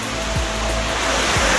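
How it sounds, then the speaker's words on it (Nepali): Waterfall reached after a long forest hike, a loud, dense and steady roar of falling water that fills the whole clip with no voices. "झरना"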